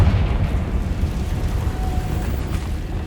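A Confringo spell in Hogwarts Legacy blasts with a deep, rumbling explosion that rolls on for a few seconds, loud and close, fading gradually without any talk.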